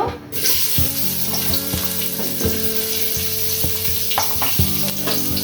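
Onions frying in hot oil for chicken biryani sizzle loudly and steadily up close, with light clinks and scraping from stirring, and no one speaks.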